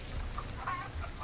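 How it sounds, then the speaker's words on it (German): Chickens clucking in the video game Hunt: Showdown, a few short faint clucks scattered over a steady low ambient hum, with no talk. "Hühner."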